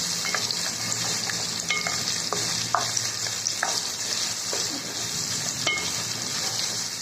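Raw banana slices fry with chillies in a pan, giving a steady, close, bright sizzle. Occasional clicks and scrapes of a stirring spoon break through the hiss.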